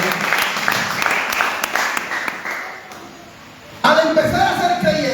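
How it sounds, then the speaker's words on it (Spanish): Steady applause from a church congregation fills the room, fading in the middle before a louder burst of clapping and cheering returns. "¿Cuánto dan un aplauso a Dios hoy?"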